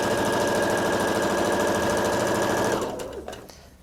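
A sewing machine runs a long continuous basting stitch for gathering, a loud steady rapid whir that slows and stops near the end with no talking.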